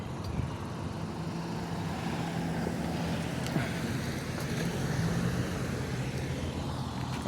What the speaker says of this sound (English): Now I have to wait till all the cars go.